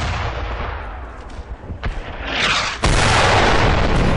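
Artillery fire in the World War II shooter game Brothers in Arms: Earned in Blood, with a distant rumble, a sharp crack, then a loud close explosion that gives way to a sustained roaring blast.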